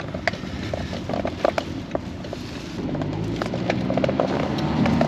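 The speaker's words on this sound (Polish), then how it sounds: "Ale to jest dźwięk z silnika" A steady low engine drone heard from inside a moving car, with scattered clicks and rattles, growing a little louder toward the end.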